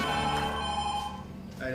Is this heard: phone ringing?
yes